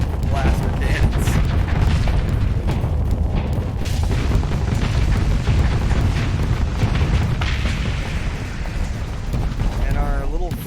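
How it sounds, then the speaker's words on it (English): Blaster cannons fire and explosions boom in the Starsector space combat game, heavy and continuous with dense rumbling blasts and sharp bursts, while a voice talks over the battle. "Blaster cannons."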